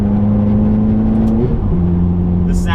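A 2006 Ferrari F430 engine drones while driving, then shifts gear mid-run so the tone drops and climbs again; the sound stays loud and close, with a faint high chirp near the end.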